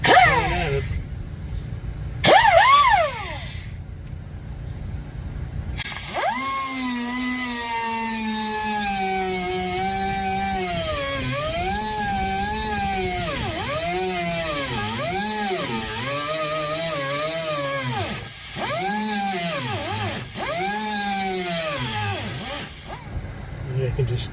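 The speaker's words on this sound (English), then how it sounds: "this cutoff wheel sucks" An abrasive cutoff wheel grinds into the fender of a 1969 Chrysler 300, two short bursts and then a long loud whining cut whose pitch sags and rises as it bites.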